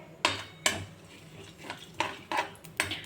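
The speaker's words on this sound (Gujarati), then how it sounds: "હવે આ ખડા મસાલાને થોડીક વાર ચટકવા દેશું અને સાતડતા આવશું" Whole spices crackling in oil in a pan, six sharp clinks and pops of a spoon stirring against the pan at irregular intervals over a quiet sizzle.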